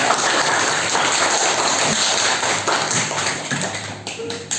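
Schoolchildren in a classroom clap their hands together in a dense, steady rattle of claps that stays loud throughout, then breaks up and tapers near the end.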